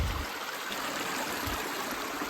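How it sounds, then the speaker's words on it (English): A creek flows at a trail crossing on the Noland Divide trail, a steady close rush and trickle of water that runs unbroken and fairly quiet, with no voices. "we got an actual creek crossing to get to it"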